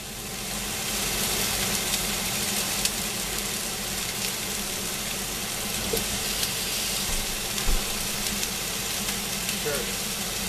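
Turkey frying in a pan for a breakfast dish gives a steady, close sizzle and hiss that runs throughout at an even level.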